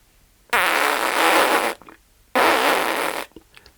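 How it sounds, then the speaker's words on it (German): Two loud, buzzy fart-like blasts of air squeezed out through overly tight lips during a brass circular-breathing exercise, each lasting over a second with a short gap between, close and dry. "mit zu engen Lippen und einem furzigen Ton die Luft heraus, während du durch die Nase einatmest"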